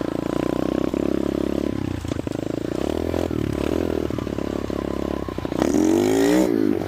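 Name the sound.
restored mini bike engine running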